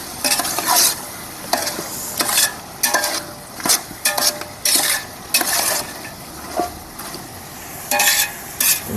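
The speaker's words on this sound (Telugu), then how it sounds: "పసుపు వేసుకొని తిప్పేసి కలిపేసుకొని బాగా" Chicken curry with turmeric stirred in a pan, a spoon scraping and clinking against the metal in irregular bursts over a steady sizzle and frying hiss.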